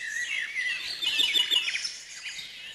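Small birds chirp and twitter at a drinking spot outdoors, a busy overlapping chorus of high, quick calls at moderate distance, with no voices.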